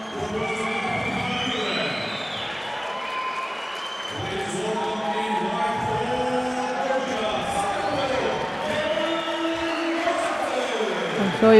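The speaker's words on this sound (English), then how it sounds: "So you can hear the crowd" Indoor crowd murmur and scattered cheering fill a youth Olympic wrestling venue at the European Youth Olympic Festival in Tbilisi, a steady hubbub with rising shouts, while a commentator talks over it throughout.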